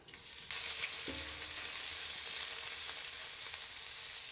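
Finely sliced onion dropped into hot oil with whole spices for a lamb kofta curry, a sudden burst of loud sizzling and crackling that settles into a steady close hiss, with a little stirring and no talking.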